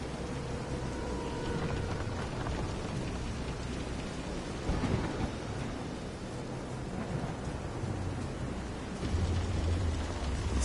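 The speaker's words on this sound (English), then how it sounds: "This is some storm." Thunderstorm with heavy rain in the video game Vision of Mana, out at sea around a pitching boat: steady dense rainfall hiss with a deep rolling thunder swell midway and another low rumble near the end.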